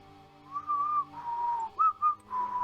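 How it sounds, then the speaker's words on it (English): A person whistles a short, soft tune of sliding, wavering notes, a few held tones and then quick little chirps, heard alone without speech. "You have to whistle for it."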